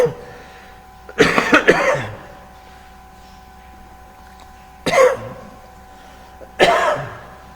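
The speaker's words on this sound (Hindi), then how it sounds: "खांसी हो रही है।" A man coughs three times in separate close bursts, the first a double cough, then two single harsh coughs spaced a few seconds apart, with quiet room hum between them.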